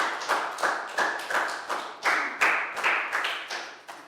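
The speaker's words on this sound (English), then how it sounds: "Big round of applause" Small class group clapping together in a Year 3 English lesson, about a dozen distinct bursts of hand claps in a loose, steady rhythm, close and moderately loud, with no talking.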